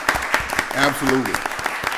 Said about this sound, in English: that warrants a round of applause